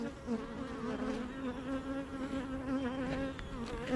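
Bees buzz close by in a steady, droning hum that wavers slightly in pitch as they move. The buzzing carries on alone for several seconds.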